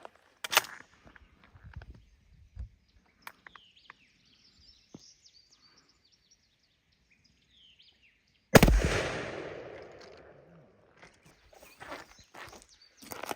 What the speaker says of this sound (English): We're going to be shooting some Federal heavy field loads.